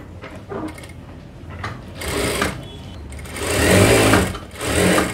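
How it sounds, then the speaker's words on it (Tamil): A sewing machine stitches the folded hem of a blouse sleeve in several short, whirring bursts with brief pauses between them, close and fairly loud. "இப்போ ஸ்லீவை நம்ம கோடு போட்ட வரைக்கும் மடித்து ஸ்டிச் பண்ணிடலாம்."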